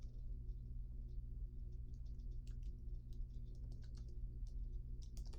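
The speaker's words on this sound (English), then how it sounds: "Let me type it out." Typing on a computer keyboard, quick irregular clicking keystrokes in short bursts, faint and close over a steady low hum.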